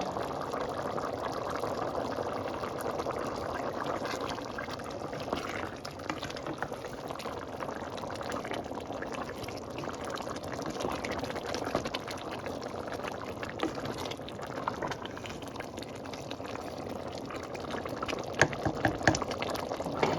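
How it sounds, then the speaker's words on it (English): Boiled dark fruitcake mixture bubbling steadily in a pot, a continuous close bubbling and gurgling with small pops throughout and no voices. "we're going to let this boil"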